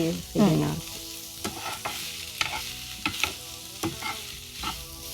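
Capsicum sautéing in a kadai for kadai paneer, a crisp sizzle broken by repeated scraping strokes of a spatula against the pan, close and clear with no talking.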